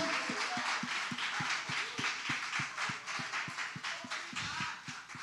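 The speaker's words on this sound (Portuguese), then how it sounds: "Vamos aplaudir este Deus." A church congregation applauds during a sermon, steady dense clapping that carries on for several seconds, fairly faint and roomy, with rhythmic low thumps running beneath the claps.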